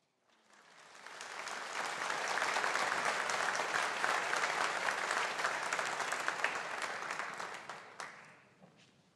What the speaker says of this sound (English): No invasion of the stage, please, but plenty of applause.